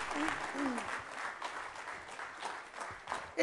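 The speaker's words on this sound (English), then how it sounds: "May we have a round of applause for her?" Audience applause for a chartered accountant being introduced at the BCICAI International Conference 2013, a steady wash of many hands clapping throughout, moderately loud and fairly even with a brief swell at the end.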